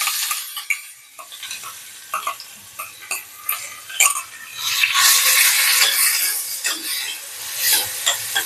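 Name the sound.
onions frying in oil with curry leaves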